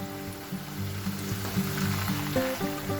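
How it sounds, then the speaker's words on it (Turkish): Potato sticks fry in hot oil with a steady, loud sizzle and crackle, with small bubbling pops and a faint underlying hum throughout. "Patates çubuklarımızı yine kızartmaya devam ediyorum."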